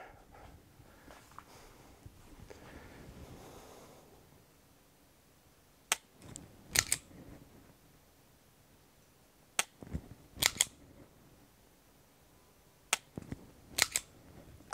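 A Strikeman dry-fire training pistol's trigger clicks sharply in close pairs, three pairs spaced a few seconds apart after a quiet stretch of faint handling noise.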